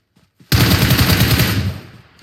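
Automatic gunfire in PUBG Mobile, a loud sustained burst of rapid shots starting abruptly after a brief faint lead-in, then tailing off into reverberant decay.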